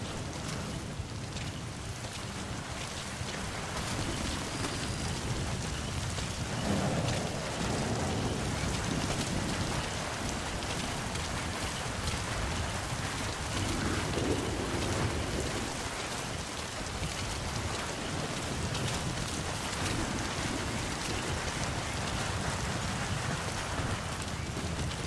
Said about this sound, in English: Sound of rainfall should help to mask your footsteps.